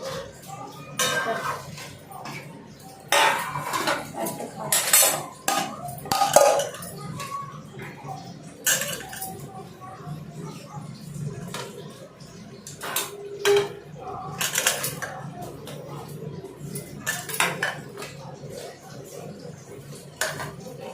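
Dishes and a serving spoon clink intermittently while rice is served, short metallic knocks and scrapes spread across a quiet room, mixed with coughs, throat clearing and occasional voices.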